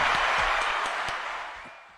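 An audience applauds in a continuous dense wash of clapping, loud at first and slowly fading over two seconds, with a few sharper individual claps standing out.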